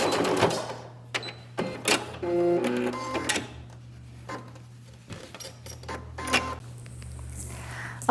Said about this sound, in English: we're just going to stitch straight across there.